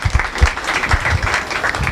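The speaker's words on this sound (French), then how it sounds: "On peut l'applaudir hein, quand même." Dense, close audience applause at the opening of an agency stand, a brief loud burst of many hands clapping without talk.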